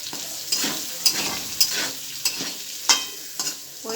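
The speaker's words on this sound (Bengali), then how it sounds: "ওই তেলে দিয়ে দিয়েছি পেঁয়াজ কুচানোটা। পেঁয়াজটা লাল লাল করে ভেজে নেব।" Chopped onions frying in hot oil for a chicken, potato and pumpkin curry, a steady close sizzle broken by regular scraping strokes of a spatula stirring the pan, with no voices.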